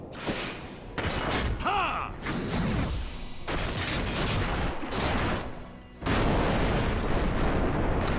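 Magic explosion attacks in Final Fantasy 12 boom and crackle in a string of loud bursts with swooshing and a sweeping tone, broken by a brief lull before another heavy blast.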